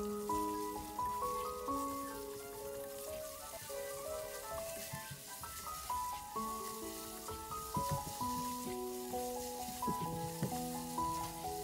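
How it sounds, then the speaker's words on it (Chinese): Pork slices stir-fry in hot oil in a wok with a steady, rain-like sizzle, close and continuous beneath louder background music. "翻炒至断生。"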